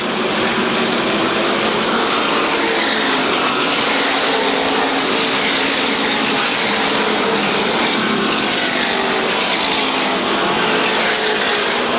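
SK Modified race cars roar around the Waterford Speedbowl oval in a 1993 feature race, producing a loud, continuous, dense engine drone from a pack of cars running close together.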